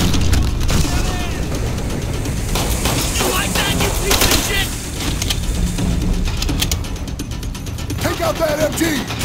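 Machine gun fire in the World War II shooter Call of Duty: World at War, loud and sustained bursts with mechanical rattling, layered with shouting voices and battle noise throughout.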